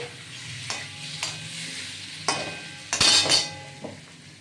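A bowl of water is stirred into a cooking pot, with a soft bubbling simmer underneath and several distinct metal scrapes and clinks of a spoon against the pot, the loudest cluster near the end.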